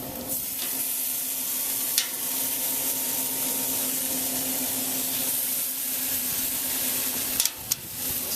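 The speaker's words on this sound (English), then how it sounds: "we still got a nice sizzle going" Ribeye steaks sizzling steadily on an El Fuego grill, a constant close hiss and crackle with a few sharp pops, no talking.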